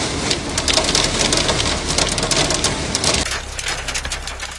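Hail pounds down during a giant hailstorm in Nebraska, a dense, loud, steady clatter of ice striking surfaces that drops off abruptly near the end, with no speech.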